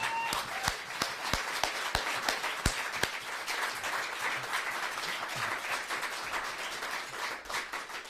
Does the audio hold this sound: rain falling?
no